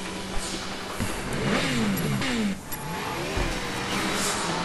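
A car engine in the video game Sleeping Dogs revs hard during a street race, with rising and falling pitch sweeps as gears shift, close and loud throughout, with a brief dip midway.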